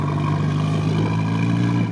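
A 5-litre off-road vehicle engine revs hard while stuck in deep snow, a loud, steady, close droning roar that holds a strained pitch throughout.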